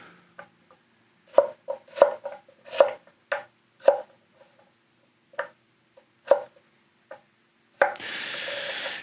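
A santoku kitchen knife slicing through food on a cutting board, a run of crisp, evenly spaced chops that slow toward the end, close and clear with no talk, followed by a short burst of broadband noise.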